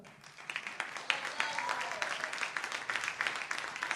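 Concert audience applause rises and stays steady, a dense patter of many hands clapping at moderate distance, with no one talking over it.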